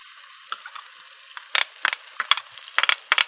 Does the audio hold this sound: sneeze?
no